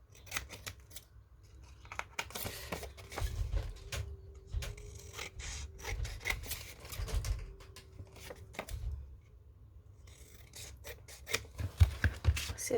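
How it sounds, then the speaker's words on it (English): Paper ephemera being trimmed with scissors, a run of short crisp snips and rustles spread across the stretch, close up and moderately quiet, with no talking. "I'm just going to trim that up now."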